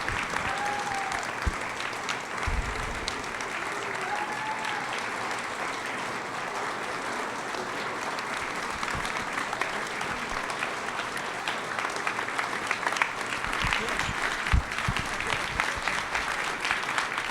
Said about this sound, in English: please give a thunderous round of applause to our first honoree, Jo Anne Sutherland.